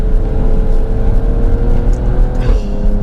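An Alfa Romeo Stelvio Quadrifoglio engine revs loudly while driving, a deep, close, rumbling drone that swells and rises near the end, with no talking.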